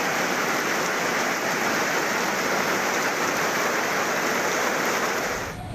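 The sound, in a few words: heavy rain falling in Tamil Nadu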